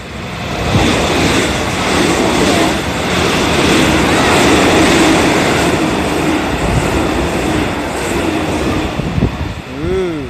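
JR Class 313 trains pass through Kōda Station in both directions nearby, a loud, continuous roar and rattle of wheels on track filling the whole stretch.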